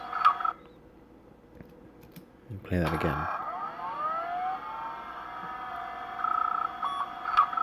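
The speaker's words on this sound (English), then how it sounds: "it's just sort of random old computer sounds" Assorted electronic bleeps and warbling synthetic tones, including a burst of sweeping, wavering pitches, with a brief spoken remark layered over the retro computer noises.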